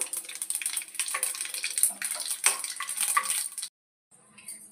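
Tempering spices frying in hot oil for tomato chutney: a close, steady crackling sizzle with fizzing pops runs continuously, then cuts off abruptly before a fainter sizzle resumes.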